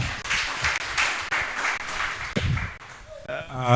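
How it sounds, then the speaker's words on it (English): Audience at a debate in Turkana West clapping for a speaker, lively mixed applause with uneven bursts that fades as a voice begins speaking near the end. "Can we clap for her?"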